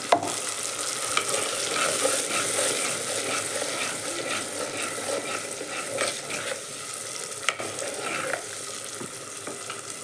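Masala sizzles steadily in hot oil for a fish curry, with a continuous crackling fry and occasional stirring scrapes close by, and no voices.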